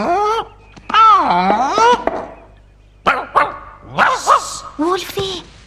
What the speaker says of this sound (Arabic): هذا صوت كلب